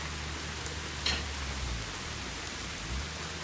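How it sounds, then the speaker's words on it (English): Heavy rain falls steadily outside on a holiday weekend, a dense, unbroken hiss that stays loud and even throughout, with no voices over it. "So much rain."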